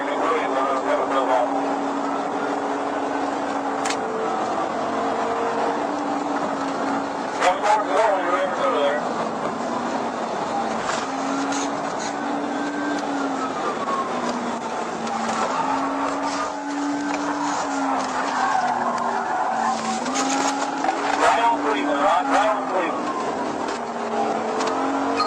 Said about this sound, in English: The driver continued to drive recklessly at dangerous speeds exceeding 120 miles per hour